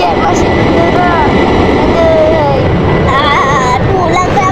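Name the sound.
jet aircraft engine in Roblox video game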